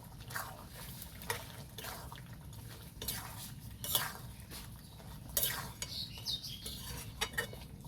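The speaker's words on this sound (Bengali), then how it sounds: "ভালো করে একবার নেড়ে নেব।" A spoon scrapes and clinks around a pan of chicken kosa, a Bengali dry curry, in scattered, quiet strokes, with faint wet stirring between the taps.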